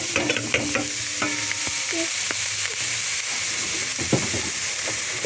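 Grated coconut frying in a wok, a steady broad sizzle with scraping stirs and occasional clinks of a utensil against the pan, close and continuous without any voice.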